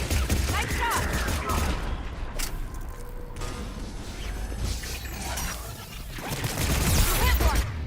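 Gunfire in Mass Effect 3 during a planetary combat mission, with dense clattering volleys and mechanical rattles continuing steadily throughout, loud and near, mixed with game effects and occasional voices.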